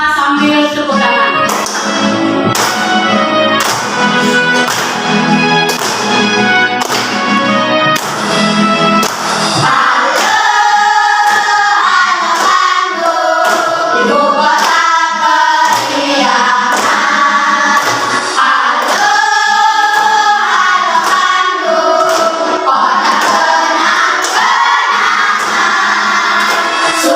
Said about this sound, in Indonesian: Bisa sambil tepuk tangan.